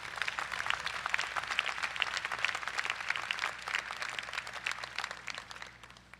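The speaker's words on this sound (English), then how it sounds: "Let's give them a round of applause." A large university convocation audience gives a sustained round of applause, dense clapping that holds steady and then tapers off near the end.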